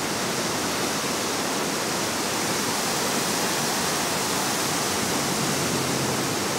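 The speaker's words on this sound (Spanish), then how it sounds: "Y ese es el río Aruncay en estos inviernos ecuatorianos 2017." A steady, dense roar of rushing water, loud and continuous, from the swollen Yanuncay River in Cuenca, Ecuador, in winter, surging close by with no pauses.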